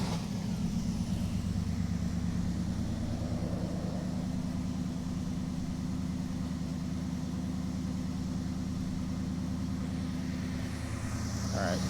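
A car engine runs steadily under a garage workshop, a low continuous drone with a slight swell partway through, as people talk quietly over it.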